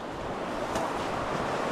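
A large river's water flowing in a rural farm area, a steady broadband rush and wash that stays even and fairly close throughout, with no voices.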